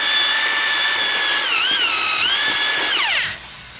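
A power drill whirs steadily while mulching paper in a 5-gallon bucket, its pitch dipping and rising under load before spinning down and cutting off near the end; close and loud, with no talk.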